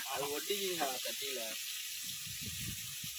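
Onions dropped into hot oil in a pan give a broad, steady hiss of frying. A person talks briefly over it at first, then the sizzle continues alone.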